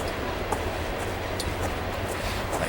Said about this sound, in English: I hope the sound of the train is good